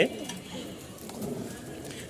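Pigeons held for sale coo softly and continuously, a low murmuring under faint background noise with a brief louder start.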